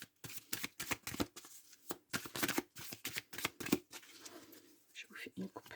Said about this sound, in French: Je vais poser mes cartes.